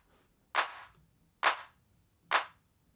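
Three gated electronic drum-machine claps, evenly spaced about a second apart, each a sharp burst whose short reverb tail is abruptly chopped off, leaving near-silence between hits.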